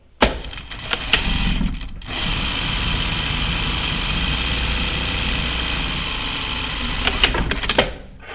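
A sewing machine stitches seam allowances on a skirt in a fast, steady whir that runs for several seconds, with a few clicks and stops at the start and end, close and loud, no talking.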